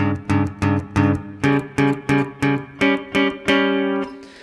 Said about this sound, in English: So that's a tritone interval sound.